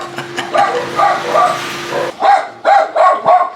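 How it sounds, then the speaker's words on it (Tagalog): Dogs barking nearby in a rapid series of short, sharp barks after a softer stretch of yelping. "Yan na naman ang mga aso."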